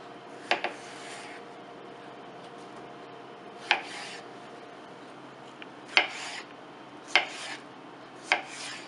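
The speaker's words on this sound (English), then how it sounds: "here's our cucumber. So we've peeled it, cut the ends off, and we're going to show you real quickly how it needs to be chopped" A knife chops a peeled cucumber with the ends cut off, landing five separate crisp strikes on a board at uneven gaps over a quiet, low background hum; no talking.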